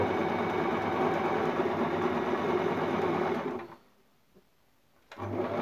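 A Singer Tradition sewing machine runs steadily at close range for about three and a half seconds while stitching a decorative stitch, then falls quiet for a moment, and the motor hum resumes briefly at the very end.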